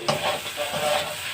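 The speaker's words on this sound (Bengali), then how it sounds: "তো হলুদটা দেওয়া হয়ে গেলে একটু নেড়ে দিতে হবে।" A spoon stirs fish curry in a pan after turmeric is added, with a few quick scraping strokes over a steady sizzle, close and fairly loud.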